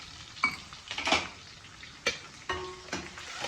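Garlic frying in oil in a pan on a home stove, with a few sharp clinks and scrapes of a spoon stirring over a soft, low sizzle.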